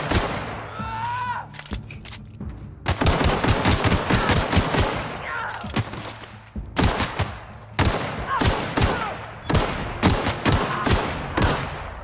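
A sustained firefight against marauders in The Outer Worlds video game, with a short quieter start giving way to repeated rapid bursts of close, loud shots and brief gaps between volleys.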